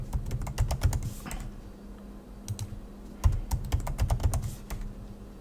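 Someone types a password on a computer keyboard during a Rocky Linux install, with clusters of quick, crisp key taps separated by short pauses, close and clear.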